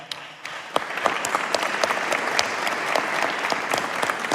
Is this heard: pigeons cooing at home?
no